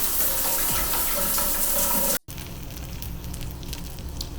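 Shower water runs steadily in a broadband hiss, loud and close for about two seconds, then cuts off abruptly before a quieter stretch of faint room noise.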